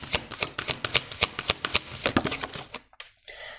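Tarot cards are shuffled by hand for a reading: a close, steady run of quick riffling slaps and snaps, alone, fading out near the end.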